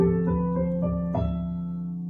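A piano plays a D Dorian scale on the white keys, a quick run of single notes stepping up one after another, each ringing into the next, close and moderately soft with no talking.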